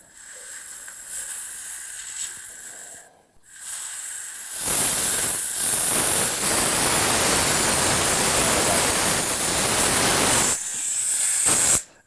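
Rusty water spraying from an air compressor drain valve, a loud steady hiss of spray and air that bursts in after a few quieter seconds and runs for about six seconds before cutting off.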